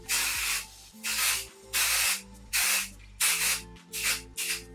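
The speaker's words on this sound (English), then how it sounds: "So to spray this on," Aerosol can spraying in six separate bursts, each about half a second long, with short quiet gaps between them, close by and steady.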